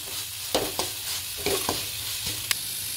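Onion and vegetables for pav bhaji sizzle and fry steadily in a pan, with a few sharp clinks and scrapes of a utensil stirring at irregular moments.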